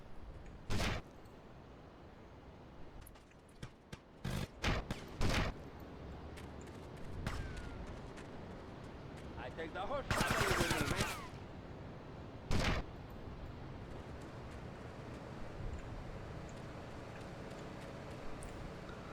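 Gunfire in the video game GTA Vice City 2 comes as sparse, separate sharp shots, with a longer rattling burst in the middle, all fairly faint against a low background hum.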